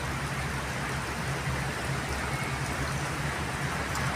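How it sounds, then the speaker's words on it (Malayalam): Heavy morning rain pours down steadily, a dense, even hiss of drops with a low rumble beneath, close and continuous with no voices. "നല്ല മഴ രാവിലെ."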